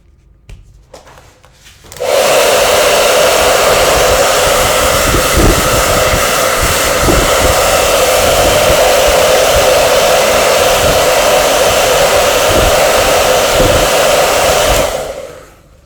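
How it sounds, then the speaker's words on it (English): A hair dryer switches on and blows with a loud, steady whoosh for about twelve seconds, then cuts off. "I'm going to use hairdryer to dry this."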